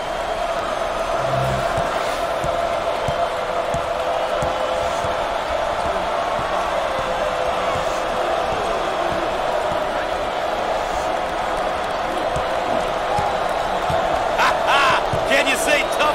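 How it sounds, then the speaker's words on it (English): A fired-up arena crowd cheers throughout an NCAA Basketball 20 game, Wisconsin Badgers against Penn State Nittany Lions, as a steady, loud roar. A sharper burst of whoops comes near the end, and commentators talk over it. "This crowd is fired up."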